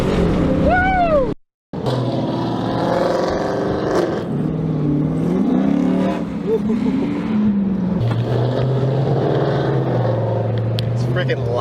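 A Hemi V8 fitted with long tube headers revs loudly in bursts, the pitch climbing and falling, with excited shouting voices over and between the revs and a brief dropout partway through.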